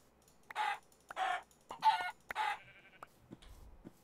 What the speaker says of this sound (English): I feel bad using the shears on the chickens